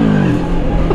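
Moto Morini X-Cape 650 motorcycle engine held at a loud, steady rev for a wheelie attempt, a continuous close-up drone without speech.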